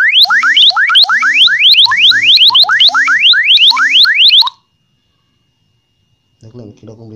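A mobile phone's anti-theft alarm rings after the charger is unplugged, blaring loud, rapid rising electronic chirps in repeated bursts for several seconds before stopping; after a silent pause a person begins talking.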